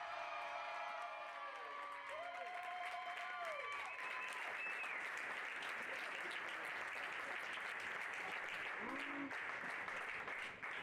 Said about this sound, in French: Ils sont vice-champions de France, on les applaudit